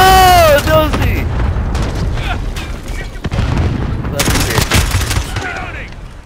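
Loud close gunfire in the video game Modern Warfare, rapid bursts of shots and booms mixed with game sounds, with a voice talking over them.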